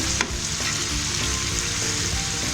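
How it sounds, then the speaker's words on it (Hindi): Yogurt goes into a mutton karahi, giving a continuous loud sizzle and frying hiss with faint stirring scrapes throughout and no talking. "अभी मैं इसमें दही डाल रही हूँ।"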